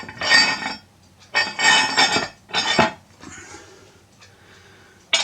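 Metal parts of a 3-in-1 press clank and clink as an insert and then the lid are set in place, giving three close, bright knocks followed by a quieter scrape and a final tap.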